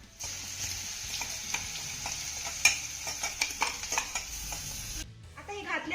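Wet ground spice paste sizzles and crackles loudly in hot oil with cumin, with scraping stirring strokes, before the sizzle cuts off near the end.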